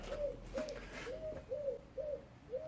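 A pigeon coos in a slow, regular series of soft, rounded calls, about six in a row, fairly close over quiet background hiss.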